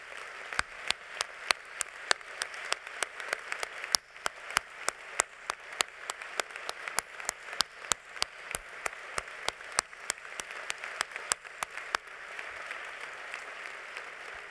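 A congress audience applauds for the writer Almudena Grandes during a closing speech, producing sustained, dense clapping with distinct sharp claps popping out in a fairly even rhythm, filling the hall for a long stretch before easing slightly near the end.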